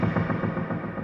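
A snare drum is processed with heavy reverb and delay, giving a cavernous effect. It thuds in a dense, smeared pattern of repeating echoes that blur together under a continuous wash of reverberation.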